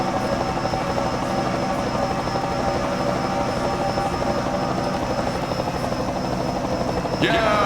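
A helicopter in a sim racing video game gives a steady, loud rotor-and-engine drone that fills the whole stretch without pause, while people talk over it.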